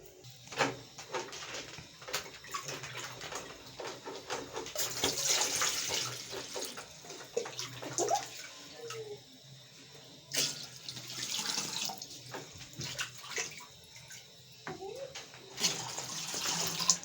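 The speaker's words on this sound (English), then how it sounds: "I'm just putting a lot of water" Water runs from a tap to fill a cooking pot for ugali in a home kitchen, a steady splashing flow with intermittent clatter and brief shifts, moderately near.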